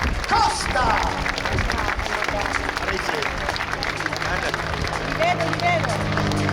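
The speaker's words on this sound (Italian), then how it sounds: "Signore e signori, salutatelo con un grande applauso il Lonsovac del comandante Costa!" Crowd at the Jesolo air show applauding a Pitts Special pilot, a steady wash of clapping mixed with crowd noise and a low engine drone, with a public-address voice over it.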